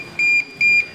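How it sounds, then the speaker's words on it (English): A Nemtek Merlin electric fence energizer gives two sharp, loud, high-pitched beeps in quick succession after a code is entered, close up and alone. "It will give you 5 beeps telling you that the previous code is no more working"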